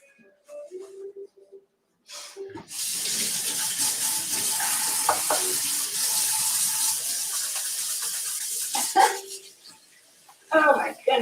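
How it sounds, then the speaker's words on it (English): Running tap water gushes steadily into a kitchen sink for several seconds while a cook rinses after cutting an onion, with someone talking and exclaiming over it; short clatters and splashes bracket the flow. "Isn't running water wonderful?"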